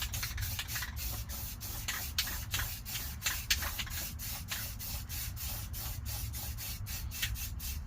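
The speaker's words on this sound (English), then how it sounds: "I'm gonna just spray it so that there's no raw metal" A steady hiss of aerosol spray onto bare metal on a Honda CRX seat rail area runs throughout, with repeated short bursts and a constant low rumble underneath; no voices.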